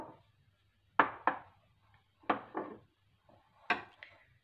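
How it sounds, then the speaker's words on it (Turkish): Pomegranate seeds are emptied from a bowl into a cooking pot for pomegranate jam, giving three pairs of quick clattering pours in a quiet kitchen, each burst fading fast. "Şimdi bunları şöyle tencereme boşaltacağım."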